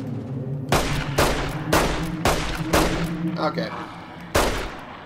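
Gunfire in Fallout: New Vegas: five or six loud, sharp shots spaced about half a second apart, close up, with a short pause before the last one and a brief spoken word in between.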